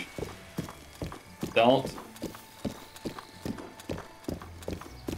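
A horse gallops in Zelda: Tears of the Kingdom with steady rhythmic hoofbeats and a brief snort or whinny partway through, while a person speaks a short word over the top.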